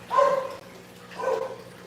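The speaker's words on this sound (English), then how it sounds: "The dogs are rowdy." Dogs bark in two short rowdy bursts indoors, moderately close, with a quiet pause between and no talking.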